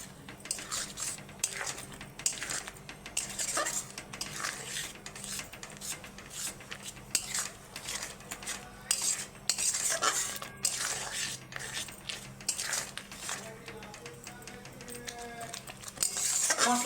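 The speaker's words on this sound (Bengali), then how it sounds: "দিয়ে মশলাটাকে কষিয়ে নেবো একটু।" Spice paste with Kashmiri chili powder being stir-fried in a pan, a steady run of metal spoon scraping and clattering against the pan with light sizzle underneath, close and continuous throughout.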